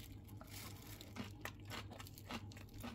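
Homemade gimjang kimchi being bitten and chewed, giving soft, irregular crunches and wet crinkling bites, close and quiet, with no talking.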